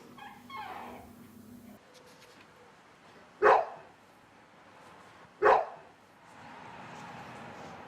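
Dachshund puppies give two sharp, high yips a couple of seconds apart, loud and close, against quiet background noise.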